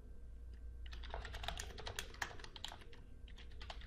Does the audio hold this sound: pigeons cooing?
no